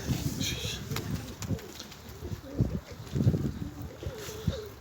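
A kept flock of pigeons cooing in a loft, repeated low throaty coos close by with soft wind in the background.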